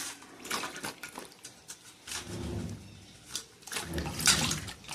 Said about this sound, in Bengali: পরিষ্কার জলটা এসছে,